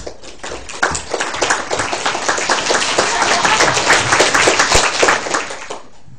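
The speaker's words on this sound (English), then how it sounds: "I'd just like everybody in the room to clap" Audience in a lecture room clapping together, a dense, steady burst of many hands applauding for about six seconds before stopping abruptly.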